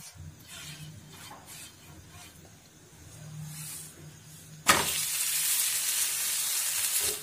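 Potato dashmi flatbread frying in oil on a hot tawa, with a faint low background at first, then a sudden loud, steady sizzle as the dough hits the oiled pan.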